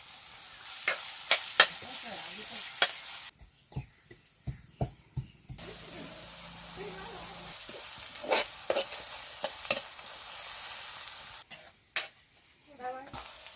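Onions frying in hot sweet oil, a continuous sizzle with frequent stirring scrapes and clicks of a spoon against the pan, close up, briefly dropping away and returning.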